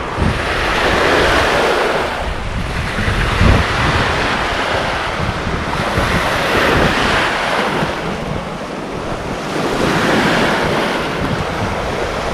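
A strong sea current runs through shallow surf, making a continuous loud rushing wash of waves. Gusts of wind buffet the microphone throughout, and no one speaks.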